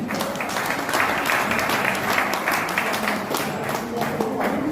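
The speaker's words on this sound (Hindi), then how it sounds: "आए हुए लोगों के लिए जोरदार तालियां भाई।" Loud, sustained applause from a crowd at a pigeon flying club prize distribution in Lucknow, dense clapping continuing evenly throughout.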